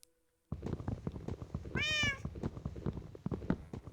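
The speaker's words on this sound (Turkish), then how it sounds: "Miyav seslerini de unutmadık tabii ki de." A single drawn-out cat meow in Minecraft rises over a busy game soundtrack of rapid clicks and thuds.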